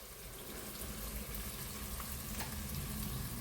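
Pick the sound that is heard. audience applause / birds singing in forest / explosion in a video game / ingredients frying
ingredients frying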